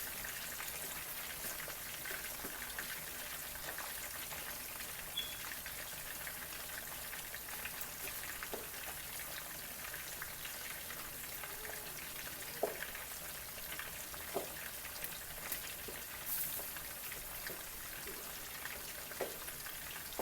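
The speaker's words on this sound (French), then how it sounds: "Et après, on va passer à frire." Food frying in hot oil gives a steady, close hiss and crackle with scattered small pops throughout, and no talking is heard.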